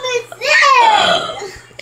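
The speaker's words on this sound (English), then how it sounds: "I'm gonna practice my devil burps." A child belches a long, loud drawn-out burp right up close, preceded by a short breath, with a faint voice at the start.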